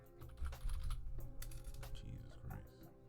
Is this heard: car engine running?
no